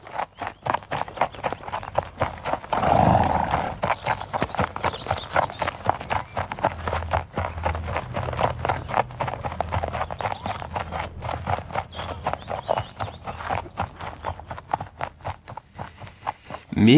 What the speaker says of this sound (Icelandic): Síðan tölti hesturinn hægt og tígulega af stað með Babin